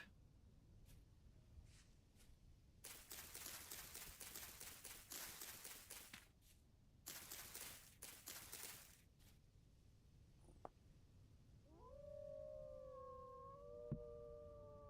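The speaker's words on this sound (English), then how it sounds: "I can hear a wolf." A wolf in the video game Vintage Story howls near the end, a rising then sustained wavering tone, after stretches of rapid rhythmic crunching footsteps and quiet ambient background.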